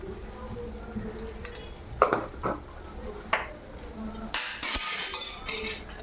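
A spoon scrapes and clinks against a pan as green chillies are stirred with salt, giving sporadic metallic taps and brief scraping bursts at close range, with a short rattling clatter near the end.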